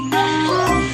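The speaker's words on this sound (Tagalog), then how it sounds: "Parang tunog ng cellphone." A cellphone rings with a short bright tinkling chime, two quick repeated tones in about a second, close and clear with no voices over it.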